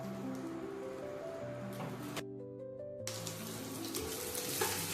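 Thinly sliced ivy gourd (dondakaya) frying in hot oil, a close, continuous loud sizzle and crackle that briefly cuts out and then resumes with no talking.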